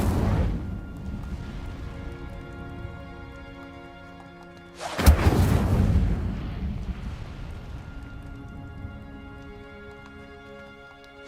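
Incendio fire spell cast in the video game Hogwarts Legacy, a sudden whooshing burst of flame with a rumbling tail that fades slowly over a sustained musical backdrop.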